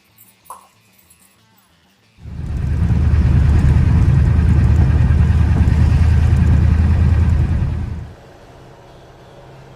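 A 1947 Ford car on a test drive gives a loud, steady engine and road roar that starts abruptly after a quiet moment, holds for about six seconds, then drops away to a low hum.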